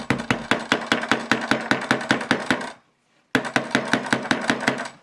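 A Nokia Lumia 920 smartphone used as a hammer, striking sharply in a fast steady rhythm of close, loud knocks, a brief silent pause, then another run of rapid blows.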